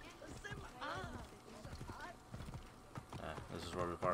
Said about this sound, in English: I don't know why I called my horse to go 70 meters.